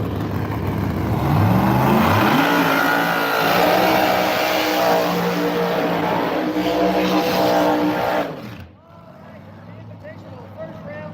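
A Pro Charge Mustang drag car revs loudly and steadily at a no-prep drag racing event at Rockingham, engine noise rising and falling for about eight seconds before cutting off abruptly, leaving a quieter roar with a voice talking over it.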